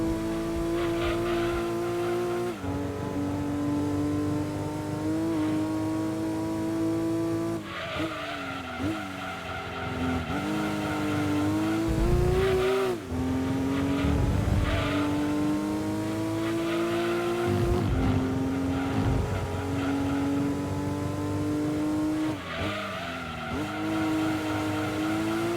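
Race car engine in Gran Turismo 2 during an 80's sports car cup race, a loud continuous drone that rises and falls through gear changes, with tire squeal on corners, steady and close throughout.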